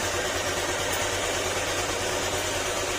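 A motorcycle engine idling steadily up close after failing to start and losing compression, a constant rough rumble like a big bike with no change in pace.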